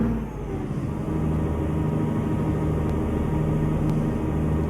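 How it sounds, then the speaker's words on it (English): A Cat C7-powered Kenworth T300 side dump truck's engine brake drones with a deep, steady rumble close by, rising slightly partway through, with no voices; louder toward the low end of the gear. "Now you can hear that Jake in there now."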